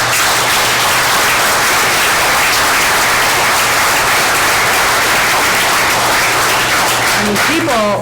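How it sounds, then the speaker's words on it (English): Loud, dense clapping fills a mayor and council meeting room, continuous throughout, with a voice emerging briefly near the end. "I just have to clap through the wall"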